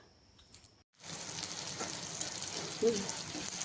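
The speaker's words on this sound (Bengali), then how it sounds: "এয়া লোকেল মুৰ্গী একদম কাৰাকৈ ভাজি লৈছোঁ" Local chicken frying crisply in a pan gives a steady, close sizzling hiss that starts after a brief quiet gap and continues evenly, with faint crackles scattered through it.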